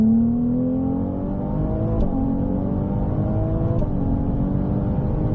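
A Ferrari GTB rated at 820 hp accelerates hard around the La Ferté-Gaucher racing circuit, its loud, close engine note climbing steadily, with two quick upshifts that briefly drop the pitch before it rises again.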